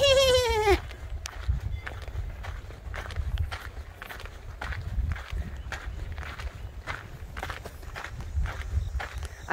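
Goat at Brookgreen Gardens in South Carolina lets out a loud, wavering bleat right at the start, then close, shuffling footsteps and hoof scuffs continue steadily on the ground.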